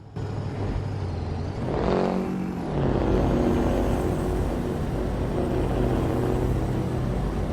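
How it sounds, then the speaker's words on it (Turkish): A truck engine in Euro Truck Simulator 2, fitted with a sound mod, runs steadily and revs up in a single rising sweep about two seconds in, then settles into a loud, continuous rumble with no talking. "Dur bir ara gaz atar mıyız?"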